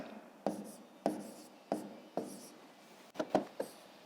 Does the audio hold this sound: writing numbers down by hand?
yes